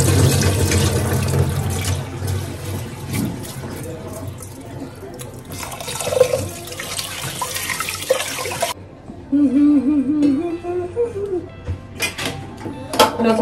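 Water runs from a household tap into a sink, splashing and trickling with shifting intensity, while a voice talks intermittently over the flow.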